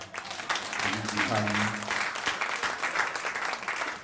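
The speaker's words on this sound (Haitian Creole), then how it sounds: "Acclamez pour nous pour ça." A church congregation claps and cheers in a sustained, dense burst of applause that fills the whole stretch, with a voice briefly audible through the noise.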